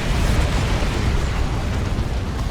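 Rocket run explosions in the real-time strategy game Dawn of War 2 make a dense, rumbling roar of blasts that holds loud and steady, with no voices over it.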